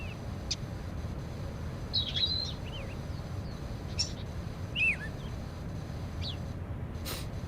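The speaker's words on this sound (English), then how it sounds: "Speaking of hearing the bird sounds" Birds chirping in the ambience of the video game PowerWash Simulator, a handful of short, thin calls scattered over a steady low background hiss, fairly faint and with no talking.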